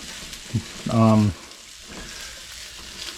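Seasoning stirred through food in a hot wok for chicken and rice, with a steady sizzle under a loud, short scrape and clatter of the utensil midway, close up.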